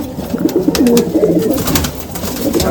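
Madrasi pigeons cooing steadily at close range, soft rolling coos overlapping one another against a background hum.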